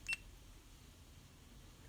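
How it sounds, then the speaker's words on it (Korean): A GoPro Hero 8 Black camera gives a single short electronic beep right at the start, clear and close, followed by quiet room tone. "카메라 알람 눌렀을 때 소리 나는 거 있죠? 요 삑 소리."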